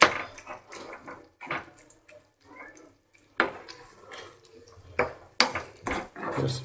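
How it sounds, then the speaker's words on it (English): A quick stir of Mediterranean-style cooked tuna steak in a pan, heard as scattered short scraping and clinking bursts with quiet gaps between them, fairly close and with no voice over them. "I'm going to give it a quick stir"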